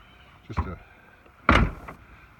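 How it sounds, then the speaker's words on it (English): DeLorean doors opening and closing with ease, heard as two short mechanical clunks about a second apart, the second louder and fuller, against a quiet background. "Doors open and close real easy."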